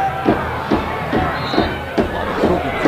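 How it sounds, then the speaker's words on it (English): Football stadium crowd at an NAIA playoff quarterfinal reacting to a referee's no-flag call, a dense roar of voices with recurring swells of shouts and jeers, loud and sustained. "The crowd didn't like the call."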